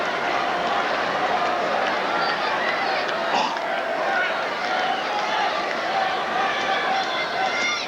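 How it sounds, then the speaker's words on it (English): A US Open tennis crowd during Becker versus Agassi in 1995 chants Boris Becker's name, a dense, rhythmic wash of many voices with faint applause, unbroken throughout. "now the crowd getting very into it, starting to chant Boris's name"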